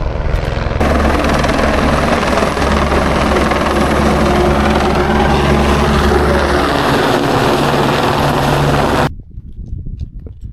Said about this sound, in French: Ah y'a l'hélico là, je suis l'hélico.